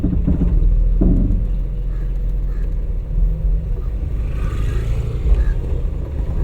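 A driving-school car pulling away in first gear, its low engine rumble steady and close throughout, with a faint rise in revs near the end.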